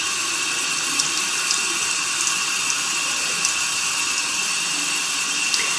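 A kitchen or bathroom tap runs steadily to wet the bristles of a dirty makeup brush, a loud even hiss of flowing water with a few faint splashes.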